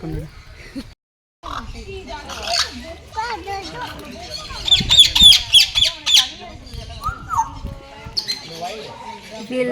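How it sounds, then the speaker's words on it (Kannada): Shrill lovebird squawks and chirps burst out repeatedly amid lively chatter and children's voices in a busy outdoor setting. "love birds"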